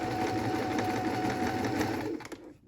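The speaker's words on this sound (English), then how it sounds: "What we're doing is we're sewing 2 top stitching channels." A sewing machine runs steadily and loudly while top-stitching two channels along a skirt waistband, a continuous close whir that cuts off near the end.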